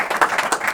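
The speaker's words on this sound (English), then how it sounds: "how about a round of applause for our speakers?" A short burst of audience applause for the speakers at an educational talk, a dense, fairly close wash of clapping.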